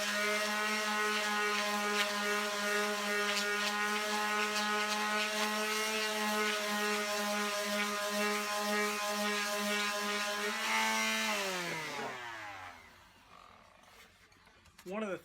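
A power tool sands a 3D printed helmet, a steady loud whine with a strong buzzing tone that holds evenly, then winds down and stops near the end.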